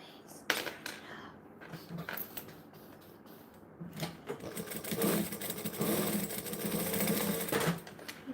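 A sewing machine stitches the base of a handmade piece, its rapid clatter starting and stopping in short runs before settling into a longer steady burst, close and fairly loud.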